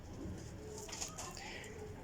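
Pigeons cooing faintly in a breeder's loft, soft low calls under a light background hiss.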